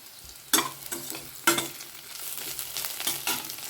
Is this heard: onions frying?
yes